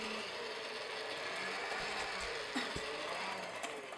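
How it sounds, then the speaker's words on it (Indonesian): An electric mixer kneads pandan donut dough with a continuous, close mechanical whir and hum, a steady motor drone with a few faint knocks and no talking. "Lalu mixer kembali sampai kalis elastis."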